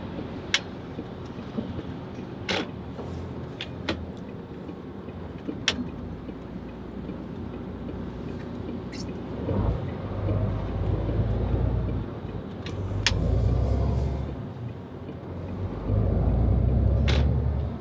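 A car drives along a road heading toward the A3 motorway, its steady engine and tyre rumble continuous and close, swelling louder in a few low surges, with occasional faint clicks and no talking.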